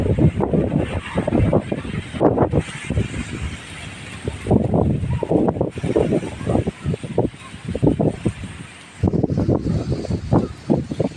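Strong gusty wind buffets an outdoor spot in a Tamil village, roaring in surges and dropping out briefly between blasts, with heavy microphone rumble and no clear voice.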